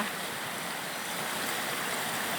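Water rushes steadily along the Pran Buri River, where a herd of banteng comes down to drink, a dense, even wash of flow filling the whole stretch with no break and no talking.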